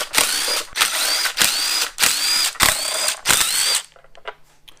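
A power drill spinning out 10mm bolts from the timing cover of a 2008 Subaru Impreza, six loud whirring bursts in a steady rhythm with brief gaps between them, then quiet shop noise.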